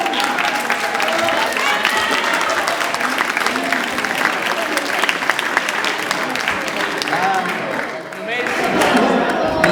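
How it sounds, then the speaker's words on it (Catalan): Loud, sustained applause from a school audience at a student presentation event, dense continuous clapping throughout with a brief dip near the end, close and full. "Un aplaudiment per tots vosaltres i per ells."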